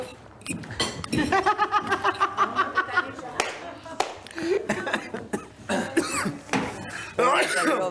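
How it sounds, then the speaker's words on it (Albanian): A person coughs a few times in harsh bursts, mixed with speech, light laughter and some clinking nearby. "Kolla keq."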